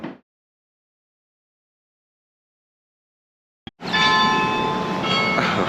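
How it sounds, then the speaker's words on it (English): Church bells in Maryborough ring out suddenly after near silence, a loud, sustained peal of overlapping clanging tones that carries on steadily to the end. "the bells"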